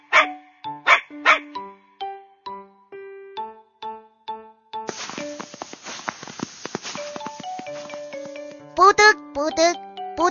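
A cartoon puppy playing in the snow gives a string of short, bright, yappy barks, some in quick pairs, set against light jingling music and a voice, all close and clear.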